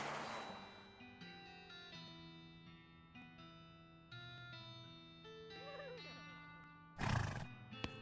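A horse whinnies in the Western video game West of Loathing: a loud, brief neigh bursts out near the end, above steady game music playing throughout.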